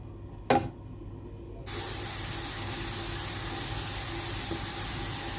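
Chopped onions are dropped into hot oil: a single sharp knock, then a sudden onset of loud, steady hissing sizzle that carries on evenly without speech.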